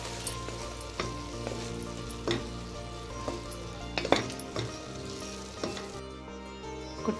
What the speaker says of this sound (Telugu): ఒకసారి మొత్తం కలుపుకోండి